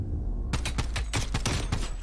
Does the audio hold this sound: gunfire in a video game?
yes